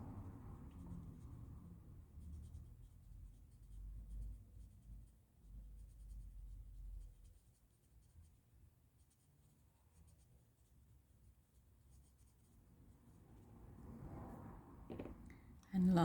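A pencil blends and shades a rose drawing on paper in a steady, soft scratching that runs throughout, faint and close, fading in the middle and building again near the end.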